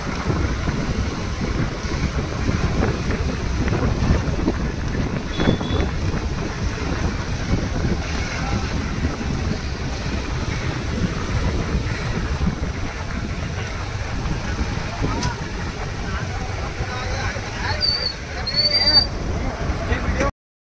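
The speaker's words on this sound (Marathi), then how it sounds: "हवा किती सुटला इकडे, लाटा बघा किती एकदम छान समुद्र किनारा आहे।" Strong wind buffets the microphone at Shrivardhan beach as sea waves wash in, a steady roar that runs the whole time beneath someone talking.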